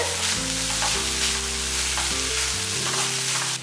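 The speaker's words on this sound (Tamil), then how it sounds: "இந்த வெங்காயம் தக்காளி வதங்குற நேரமே நமக்கு போதும். இந்த துவரம் பருப்பு வந்து நல்லா வதங்கிறதுக்கு" Onion, tomato and toor dal sauté in a pan for a lentil chutney served with idli and dosa, giving a steady close sizzle with stirring scrapes and a low hum throughout.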